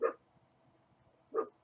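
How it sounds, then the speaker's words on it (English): Two sharp dog barks, about 1.4 seconds apart, heard nearby indoors with quiet stretches between them and no talking. "Quit barking."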